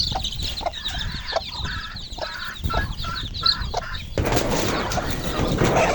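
Small chicken chicks peep in a busy, overlapping chorus, with rustling and a wash of outdoor noise growing louder toward the end.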